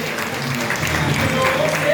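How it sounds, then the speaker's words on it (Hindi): Audience at a Brahma Kumaris gathering claps loudly for a guest, a brief burst of dense crowd applause with some voices mixed in beneath the clapping. "एक बार जोरदार तालियां भाई साहब के लिए।"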